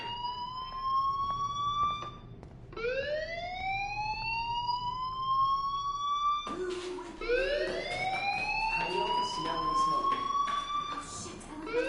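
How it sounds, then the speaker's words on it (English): A fire alarm rings in the video game Life is Strange, a loud electronic siren sweeping upward in repeated rising wails that continue throughout. "do you hear that fire alarm? That means you should be outside."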